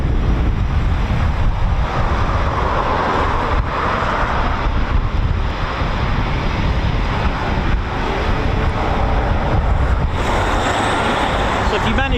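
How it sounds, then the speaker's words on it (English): Eurofighter Typhoon FGR4 jets taxiing at RAF Coningsby, a loud, continuous broadband jet engine roar mixed with heavy wind buffeting on the microphone, steady throughout. "Typhoons taxiing now."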